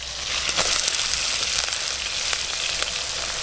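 Prawns with chopped onion fry in hot mustard oil, giving a bright, steady sizzle with scattered crackles and pops, close and continuous throughout.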